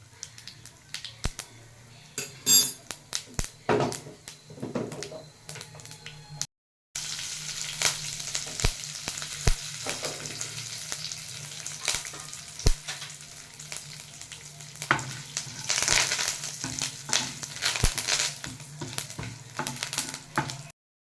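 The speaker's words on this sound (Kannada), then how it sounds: "ಒಗ್ಗರಣೆಗೆ ಅರ್ಧ ಸ್ಪೂನ್ ಸಾಸಿವೆ, ಅರ್ಧ ಸ್ಪೂನ್ ಕಡಲೆಬೇಳೆ, ಅರ್ಧ ಸ್ಪೂನ್ ಉದ್ದಿನಬೇಳೆ." Mustard seeds, chana dal and urad dal frying for a tempering over a low gas flame, a steady close sizzle with popping crackles and stirring clicks, briefly cutting out partway.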